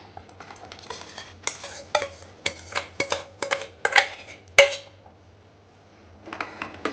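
A spoon scrapes and clinks steadily against a metal pot while stirring mutton bone sambar with lentils, with a brief pause before the stirring resumes.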